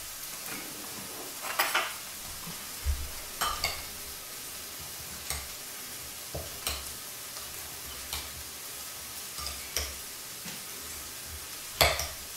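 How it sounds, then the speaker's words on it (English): Pico de gallo stirred with salt in a bowl, soft wet scraping and light clinks of a utensil recurring every second or two over a steady background hiss, with no talking. "Give this a big stir, and we got some pico de gallo."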